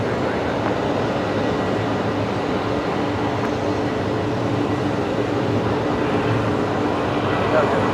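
A jet airliner passes straight overhead at night near Brisbane Airport, a loud, steady broadband roar that fills the whole stretch without letting up.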